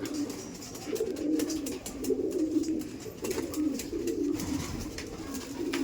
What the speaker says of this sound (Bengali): দেখুন প্রত্যেকটা পায়রা এখানে আনার সঙ্গে সঙ্গে এত ছটফট করছে